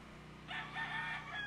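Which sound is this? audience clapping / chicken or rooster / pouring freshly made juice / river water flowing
chicken or rooster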